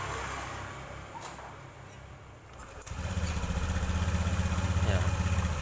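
Automatic scooter engine after a CVT service, first heard faintly under background noise, then starting up around midway into a louder, steady low idle that keeps running smoothly to the end.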